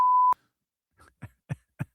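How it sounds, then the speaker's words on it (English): A sustained censor bleep covers a swear word in a talk recording: one steady electronic tone lasting about a third of a second, followed by three short, soft, low thumps. "there were more beeps than verbs there"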